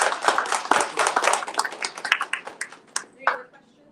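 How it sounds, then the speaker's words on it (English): Round of applause from a small audience at a Techstars Startup Week event in Tallahassee, close and lively clapping that is dense at first, then thins into scattered individual claps and fades out. "let's give everyone a round of applause."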